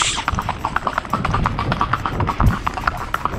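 Horse hooves clip-clop steadily on hard ground as a young colt from the island is led by a loose bridle, the quick, even beats carrying on throughout at close range.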